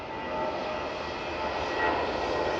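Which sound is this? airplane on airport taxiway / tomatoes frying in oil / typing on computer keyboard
airplane on airport taxiway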